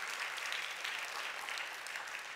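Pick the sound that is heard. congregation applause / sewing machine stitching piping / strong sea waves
congregation applause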